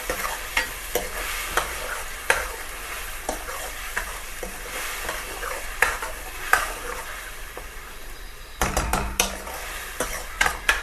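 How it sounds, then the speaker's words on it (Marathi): Egg curry masala stirred and frying in oil in a pan, a continuous close sizzle broken by frequent scraping and clinking of a spoon against the metal, with a brief louder clatter near the end; no one speaks. "हे चांगलं लाल होईपर्यंत ह्याला फिरवून घ्यायचं आहे"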